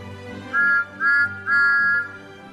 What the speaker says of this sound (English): The engine spotted Edward and whistled hello.